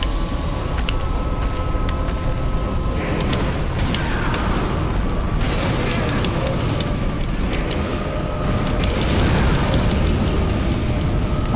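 Fire explosions in Dark Souls 3 boom and roar repeatedly against a loud, continuous rumbling battle backdrop, with no voices present.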